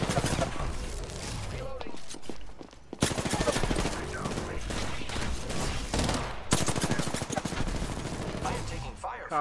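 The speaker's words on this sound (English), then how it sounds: "I am taking fire, friends." Gunfire in a video game: rapid, dense bursts of automatic fire in long stretches, broken by brief pauses, loud and close, with voices talking over parts of it.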